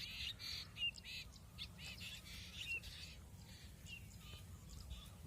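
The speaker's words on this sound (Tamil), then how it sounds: "இது என்ன பறவைன்னு கொஞ்சம் தெரிஞ்சவங்க சொல்லுங்கள்" An unidentified bird calls repeatedly over a paddy field, sharp squawks and chirps recurring throughout at moderate distance, over a steady low background rumble.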